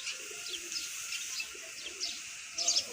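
A female pigeon settles on a rooftop loft, giving soft, repeated cooing notes over a steady background hiss, fairly close and with no talk.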